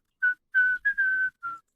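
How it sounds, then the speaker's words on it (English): Whistled melody from a 1994 song: four short tuneful whistled phrases, clear and close, with brief gaps between them and no talk. "Yeah, it's got this whistle."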